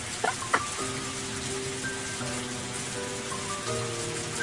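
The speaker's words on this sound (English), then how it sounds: "I listened to the soothing sounds of raindrops hitting the scrap iron in the trash heaps" Steady rain pattering on scrap iron in trash heaps, with a couple of brief sharper drips near the start, heard as a continuous soft wash with no talking.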